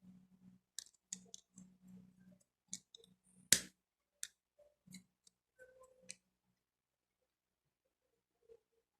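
A lighter clicks repeatedly to melt and seal a plastic bag, faint sharp ticks in an uneven series with one louder snap in the middle, over quiet low hum and pauses.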